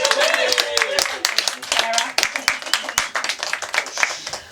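Audience applause at a book launch for the Sisterhood book: dense, steady clapping from a crowd, close and fairly loud, with voices calling out over the hands throughout.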